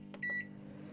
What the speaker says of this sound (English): So I've put it in my microwave for a minute